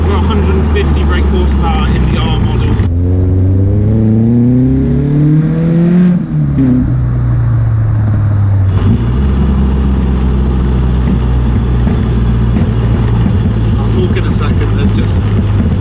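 A Caterham 310R, a light 540 kg sports car with over 150 brake horsepower, drives with its engine droning loudly close by, with a rising and falling rev sweep in the middle where the pitch climbs through gear changes.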